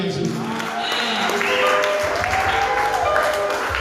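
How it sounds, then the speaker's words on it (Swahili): A church congregation breaks into sustained applause during a Swahili and English sermon, a dense wash of clapping mixed with voices and faint musical tones. "Makofi yaliyo mazuri."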